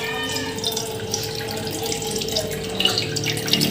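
Tamarind water, mixed by hand for a Tamil fish curry, sloshes and trickles steadily through a strainer, close and continuous, a bit louder near the end.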